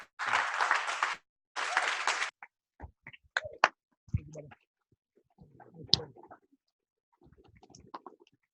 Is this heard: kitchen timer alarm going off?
no